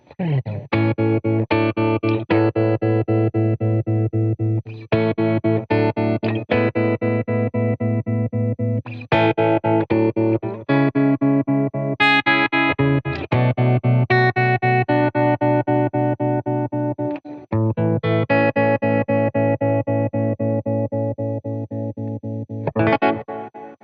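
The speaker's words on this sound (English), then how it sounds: "the reverb portion of this is so good" Sustained electric guitar chords through a reverb pedal on a pedalboard, with a wide, washy reverb tail and shimmering effects, played steadily with brief pauses between phrases.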